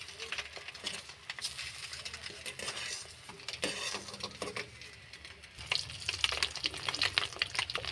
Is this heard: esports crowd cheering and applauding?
no